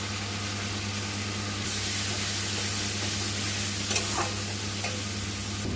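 Fish head and spices stirred in a hot pan, a constant frying sizzle and hiss that thickens partway through, with a couple of faint utensil scrapes near the end.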